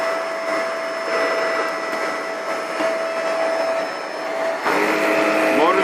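A Shark vacuum cleaner motor runs steadily after a hose repair, a close, continuous whine and rush holding at even loudness throughout, with a brief shift near the end as a switch clicks.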